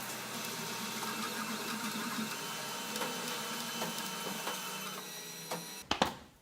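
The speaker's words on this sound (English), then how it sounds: "The printer first prints the outer wall and then fills the inside with a kind of grid." A 3D printer prints a small blue owl, its motors whirring and stepping in a steady mechanical pattern, sped up, ending with a couple of sharp clacks.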